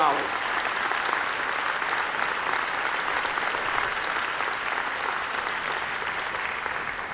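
Sustained, even applause from a sizable audience at a university Founders Day address fills the whole stretch, moderately loud and without pauses.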